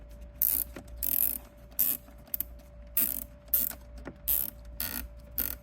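Zip tie being pulled through to fasten a 3D-printed phone mount in an NC Miata, heard as repeated ratcheting zips in short bursts with pauses between pulls, close and clear over a faint steady hum.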